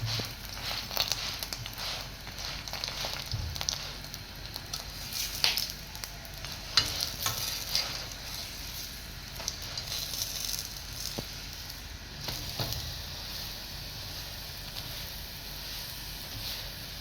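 Egg paratha roti frying in ghee on a hot pan, a steady close sizzle with crackling pops and occasional scraping or stirring, continuing alone without talk.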